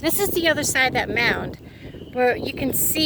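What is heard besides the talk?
No distinct noise like a dog, phone or traffic.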